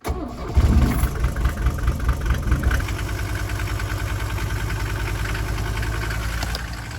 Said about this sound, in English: So, key on, clutch in, neutral, brake, turn the key.